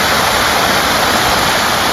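Water rushes past water mills in Bosnia on the road between Sarajevo and Mostar, a loud, constant roar of flowing water with no pauses and no voices.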